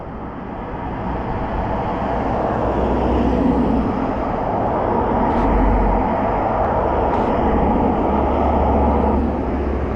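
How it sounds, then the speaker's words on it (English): Steady road noise from passing cars, a broad continuous rumble and tyre hiss that swells and holds close by for the whole stretch, with no talk over it. "Damn, these cars are so loud."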